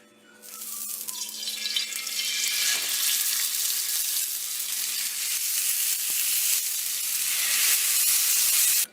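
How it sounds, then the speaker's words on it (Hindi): A tablespoon of oil hits a hot pan for chicken malai boti, rising quickly into a loud, steady hiss and crackle that holds evenly throughout. "1 टेबलस्पून हमने ऑयल डालना है।"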